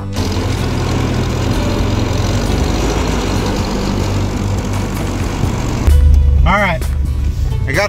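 Tractor engine running nearby with a loud, continuous rumbling drone and a low throb; near the end the engine note shifts and a voice speaks briefly over it.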